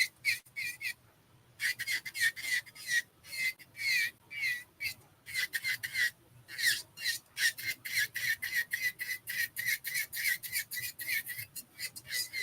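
An E5 electric nail file drill running at 11,000 RPM works builder gel nails during a rebalance and fill, giving a close, steady run of short rasping bursts with brief pauses.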